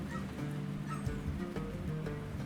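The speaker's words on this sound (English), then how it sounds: "We have a large flock of cackling geese in the yard." A large flock of cackling geese in a yard honks and cackles continuously, a dense layered chorus of overlapping calls at moderate distance with no talking.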